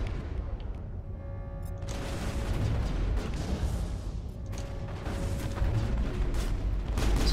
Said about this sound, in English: Bloody rockets.